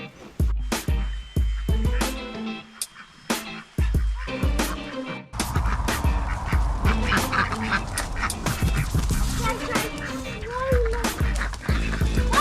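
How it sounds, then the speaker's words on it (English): Ducks and chickens being chased and caught on a New Zealand homestead: loud, repeated quacking and squawking from nearby birds in bursts, growing busier and more frantic, with people talking briefly among the calls. "we are catching all the chickens and the ducks to bring in here"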